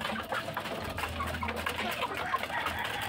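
A flock of Dominant 102 and Dominant 109 pure line chickens on a farm makes soft, scattered clucks against a steady hum of background noise, fairly faint and with no talking.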